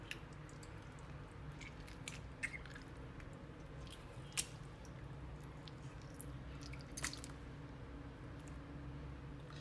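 Duck heads are washed by hand in water, giving faint, close, irregular squishing and dripping sounds with soft splashes scattered throughout a quiet room.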